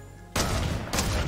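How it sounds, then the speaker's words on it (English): Two sharp, loud gunshot bursts go off close by in quick succession, each with a brief booming tail, gunfire in the video game Fortnite. "this gunfire's on like every side of us at this stage."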